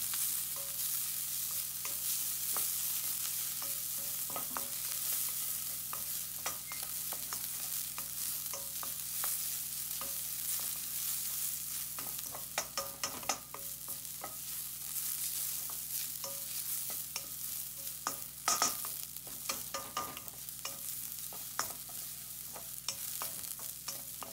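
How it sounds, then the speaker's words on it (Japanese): Butterbur buds (fukinoto) being stir-fried in a pan for fukinoto miso, giving a steady close sizzle with scattered scraping and stirring clicks throughout, no voices. "よく炒めてアクが ないように炒めましょう"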